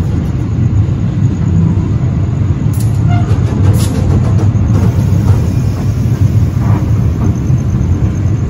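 Malabar passenger train departing Cipeundeuy station in the evening, a steady broadband rumble of rolling wheels and engine noise, loud and continuous throughout with faint higher squeals and clanks.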